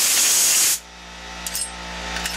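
Short loud burst of compressed air blowing onto cleaned heavy-duty brake parts of a GMC 7000 truck, cutting off abruptly after under a second, followed by quiet shop ambience with a few faint metallic clicks.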